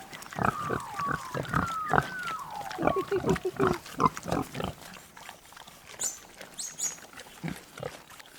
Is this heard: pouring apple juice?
no